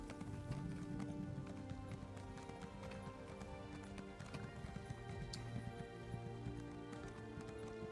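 A horse mount in The Elder Scrolls Online gallops across Stormhaven, its hooves clip-clopping in a steady, quick rhythm throughout, with an occasional whinny under soft ambient game music.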